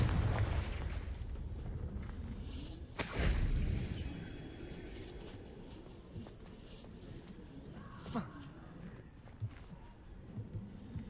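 A Confringo fire spell explosion in the Hogwarts Legacy video game, a sharp booming blast with crackling debris, followed by rumbling aftershocks and a smaller thud later, over a low ambient bed.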